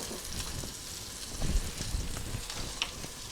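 Sausage frying in a pan gives a steady, even sizzle with a few soft crackles and a light knock at the end, close and moderate in level, with no talking.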